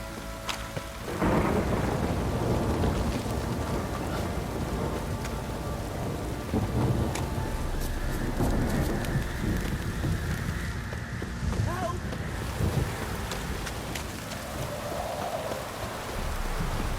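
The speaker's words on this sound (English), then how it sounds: "This downpour's a fucking shit." Steady heavy rain pours down through a thunderstorm in The Witcher 3, with low rumbling thunder rolling beneath a constant hiss for the whole stretch, and a voice faintly present at times.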